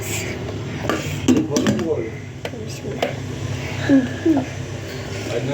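A cooking pot being covered with its lid after water is poured in, clinks and scrapes of metal close by while someone talks over them.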